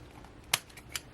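Scissors cut paper for a handmade junk journal in two short, crisp snips about half a second apart, close and fairly quiet against a soft room background.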